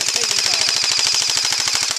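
An airsoft gun fires a fast, steady burst of roughly twenty sharp, evenly spaced shots outdoors in the woods. The burst is loud and close and lasts about two seconds before cutting off.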